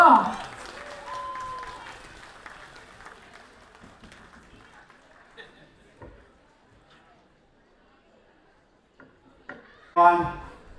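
A crowd at a Tamu Lhosar celebration claps in scattered bursts, with a louder round of applause near the end, mixed with a voice speaking and faint background murmur in a hall.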